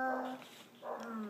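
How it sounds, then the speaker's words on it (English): A dog at home gives two short, whiny vocalizations, a whimper then a yip, close by and fairly quiet. "Doggy."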